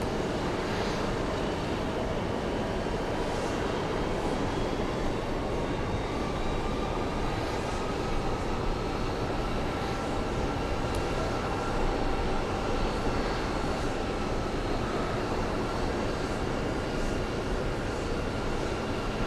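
A Lufthansa airliner on approach banks to line up with runway 22 left, a constant loud jet engine roar with faint tonal whines, steady throughout and no voices.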